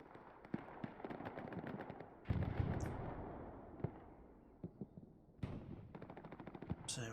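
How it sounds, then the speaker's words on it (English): Battlefield din in the video game Hell Let Loose, with rockets firing amid sharp repeated gunshots and heavier booming blasts, some close and loud, others distant, arriving in uneven bursts. "So firing rockets in there as well"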